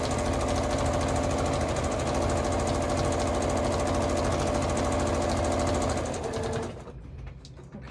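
A sewing machine stitches fringe on a chair-themed quilt in a fast, steady, close mechanical whir that runs continuously for several seconds before stopping abruptly, leaving faint rattles and handling sounds.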